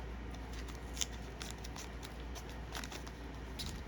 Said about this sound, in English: Maybe our little scissors will come in handy now.